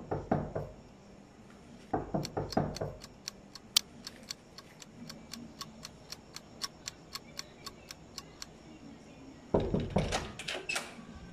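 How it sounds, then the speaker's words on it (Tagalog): A house door is rapped in three bursts of quick knocks, at the start, shortly after, and near the end, with a steady ticking of faint regular clicks filling the gaps between them. "So, kakatukin na lang natin."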